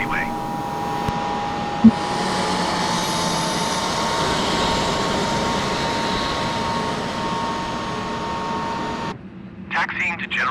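Jet engines whine steadily as an airliner taxis toward general aviation parking in Microsoft Flight Simulator 2020, a continuous drone that cuts off near the end, where a voice briefly speaks.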